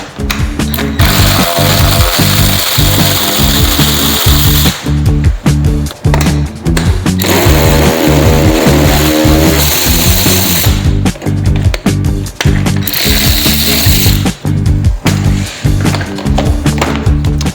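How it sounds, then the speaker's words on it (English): A ratchet working two 10mm side-panel bolts loose on a Thumpstar dirt bike, loud close rapid clicking in long repeated bursts separated by brief pauses as the tool is repositioned. "the two 10mm bolts on the side of the bike here need to be undone"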